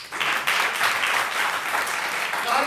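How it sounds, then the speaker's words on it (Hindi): Audience applause at a Hindi talk on script and national unity, a dense crowd of hands clapping steadily and loudly for a few seconds at close range, without voices. "इसके लिए भी एक ताली हो जाए।"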